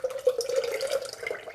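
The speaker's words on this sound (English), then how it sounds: "and then pour in the yogurt mixture" Yogurt mixture poured into a frozen ice cream maker bowl, a brief, close, liquid trickle and glug with a steady ringing tone, alone without talk.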